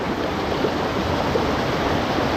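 A rushing mountain river in the Pauri Garhwal hills gives a steady, loud broadband roar of water that carries on without pause and with no voices.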